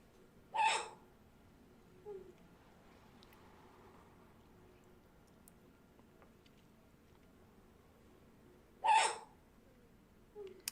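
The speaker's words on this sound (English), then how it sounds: "she had the hiccups. But it was a hiccup that I've never heard before" Two odd, sharp hiccups from a woman are played back from a recording about eight seconds apart, each a brief squeaky burst over quiet room noise, with small fainter sounds between them.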